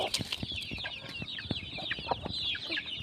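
Young chickens in a poultry shed peep and cluck in a busy, continuous chorus of short high calls, close by and moderately loud, with no talking.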